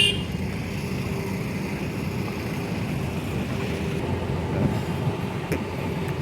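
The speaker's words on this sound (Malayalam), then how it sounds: "മാംഗ്ലൂർ ചെന്നൈ പുതിയ ട്രെയിനാട്ടോ." New Mangalore–Chennai train passing near Chorod, Vadakara, Kozhikode, a steady rumbling roll of railcars with faint clickety-clack, moderately loud and continuous, no voices.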